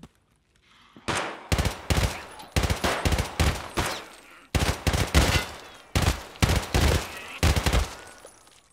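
Automatic gunfire rattles in a zombie video game during a PvE event, loud, close bursts of rapid shots repeating every second or so, separated by short pauses, with a quiet player voice in the background.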